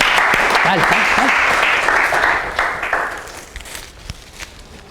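An audience in a lecture setting applauds with a dense burst of hand clapping that fades over a few seconds, with a voice speaking briefly at the start.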